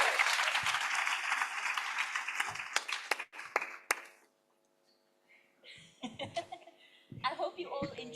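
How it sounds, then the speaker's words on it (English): A conference audience gives a warm round of applause for panelists on stage, loud clapping that fades out, then light chuckles and talking resume after a brief quiet gap. "Please give our panelists a warm round of applause as we get started."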